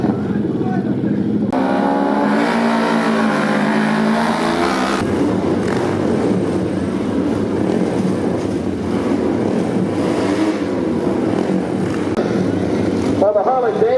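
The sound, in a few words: classic motorcycles racing past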